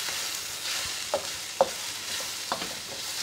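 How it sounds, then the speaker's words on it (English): Zucchini and squash stir-fry in a hot pan with a steady hiss of sizzling oil, broken by a few light clicks and scrapes of a utensil moving the vegetables. "now let's go in with our other vegetables, our zucchini and our squash."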